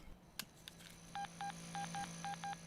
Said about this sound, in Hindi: क्या आप उसे फोन लगा देंगे?